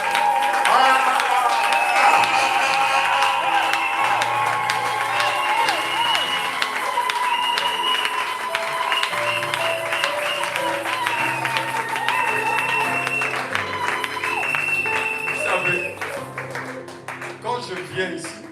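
Church congregation applauding and cheering, sustained clapping and crowd noise running under voices and music, tapering off toward the end.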